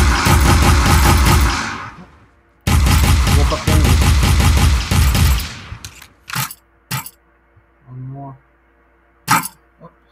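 Gunfire in a video game, rapid bursts of loud automatic shots in two long volleys, followed by a few sharp single bangs and a brief voice.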